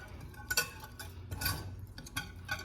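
Ingredients whisked together in a bowl, a steady patter of light metallic ticks and clinks from the whisk striking the bowl, close and moderately quiet with small swells in loudness.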